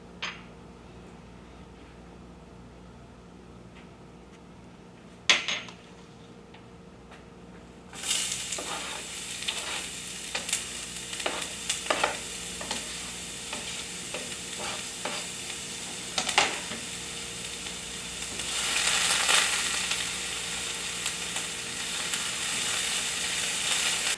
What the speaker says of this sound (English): In a nonstick pan, heat the oil and saute the onions until soft.